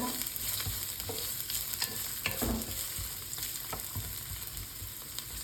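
Onion hitting a hot pan for pork ribs sautéed with tomato, a soft steady sizzle with scattered scraping stir noises, close but fairly quiet.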